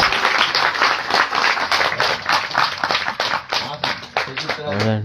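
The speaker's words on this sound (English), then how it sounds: "Give a big round of applause." Loud applause from a small group at a house kirtan program in a New Delhi home, dense clapping close by with voices mixed in, easing near the end.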